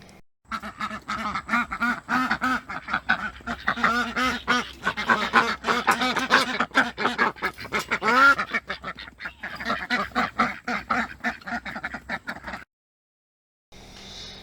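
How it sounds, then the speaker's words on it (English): Pekin ducks, both males and females, quack in a dense, continuous chorus of overlapping calls at close range, then stop abruptly into a short silence at the end. "play the initial sound recording with both of them and see if you can't pick out the one male duck in the recording"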